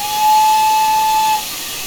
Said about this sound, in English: The main whistle doesn't sound too bad, but there's a very noticeable loop to it.